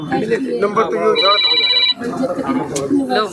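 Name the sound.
telephone ringing while calling on phone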